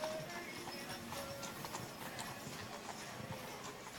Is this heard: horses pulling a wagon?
yes